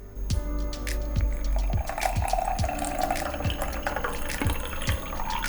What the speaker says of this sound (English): To make my American style Thai tea, I'm going to pour it over 1 tablespoon of sugar.